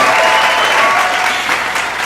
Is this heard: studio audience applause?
yes